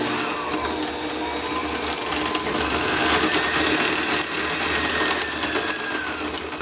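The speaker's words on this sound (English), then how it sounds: "take your butter, put it in your mixer bowl, and beat until creamy." Stand mixer creaming butter in its bowl for maple cake batter, a loud, continuous mechanical whir with a rattling, gear-like texture, close and steady throughout, no talking.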